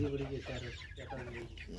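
Broiler chickens cluck close by on a farm in Qatar, several birds making short overlapping clucks and murmurs in a busy, continuous stream.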